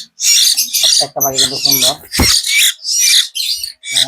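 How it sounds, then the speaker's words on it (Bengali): Chittagong hill mynas at a bird seller's give a run of loud, close squawks and chattering calls in quick bursts with short pauses. "অরিজিনাল সিটাগান ময়না পাখি দেখেন"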